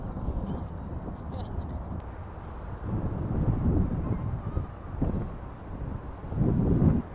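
Gusty wind buffets the microphone at a New York City pier, rumbling low and surging in waves, with a faint voice briefly underneath.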